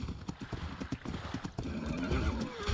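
In the ARK video game, on the Valguero map, a horse gallops with a rapid, close clip-clop of hooves, then breaks into a drawn-out whinny near the end.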